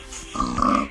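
Pigs in a video game give a short burst of grunting oinks, loud and close, rising after a quiet start and carrying on for under a second with no talk over them.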